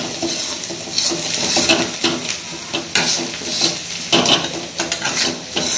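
Cashews and onions fry together in oil for biryani, giving a loud, close, continuous sizzle while a spoon stirs and clinks against the pan, with no voices.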